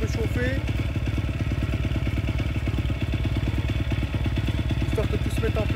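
The 140 cc engine of a new drift trike idles steadily at its very first start, a loud, even mechanical chug with a rapid regular pulse and light clatter throughout.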